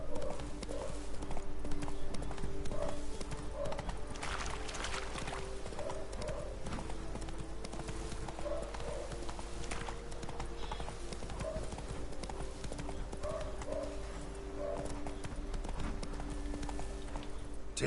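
Roach the horse's hooves clop in a steady, even rhythm through the whole stretch in Witcher 3, close and clear over a constant low ambient drone.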